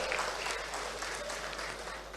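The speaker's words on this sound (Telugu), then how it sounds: "నచ్చితే చప్పట్లు కొట్టండి." Applause from a seated audience at a political speech, a steady wash of fairly distant clapping that tapers slightly toward the end.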